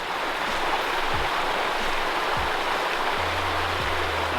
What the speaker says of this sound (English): I can hear the stream running pretty strong, so we're going to take a walk over there, check out the waterfall